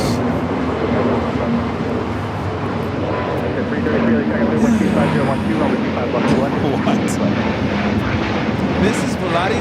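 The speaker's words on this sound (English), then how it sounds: "This is Volaris 7855 taking off to Aguascalientes on the A320neo" A Volaris Airbus A320neo airliner takes off from Los Angeles International Airport, its steady broadband engine roar continuous throughout with a low droning tone, while a person talks over it in the foreground.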